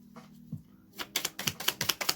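Tarot cards being shuffled, a quick run of sharp riffling clicks close by, building into a steady rapid patter after a brief quiet start.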